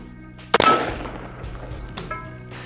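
A rifle firing 5.56/.223 ammunition at a body armor plate lets off one sharp, loud crack that rings out briefly, followed later by a fainter metallic knock.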